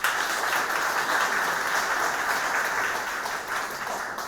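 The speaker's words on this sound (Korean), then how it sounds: "새로 취임하시는 회장님에게 우리 한 해 동안 열심히 봉사해 주셔서 큰 응원의 박수를 한번 부탁드리겠습니다" An audience applauds the newly installed president at a Lions Club 40th anniversary and officer installation ceremony in Yeongju, a steady hall-wide clapping that holds for several seconds and eases slightly toward the end.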